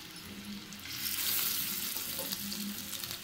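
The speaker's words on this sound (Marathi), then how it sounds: "आणि आता एका बाजूने मस्त खरपूस हे आपण फ्राय करून घेऊया." Soya kababs fry in a pan over a low-to-medium gas flame, a soft steady sizzle that swells after the first second and holds on close by with no talk.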